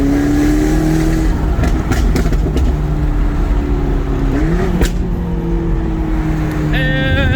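A McLaren 12C supercar accelerating hard, its engine loud and close, the pitch climbing through gear changes with brief shifts and a final high rev near the end.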